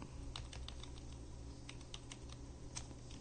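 Faint computer keyboard keys are pressed for a Ctrl C copy while entering SAP data, heard as scattered soft clicks, some in quick pairs, over a low steady hum.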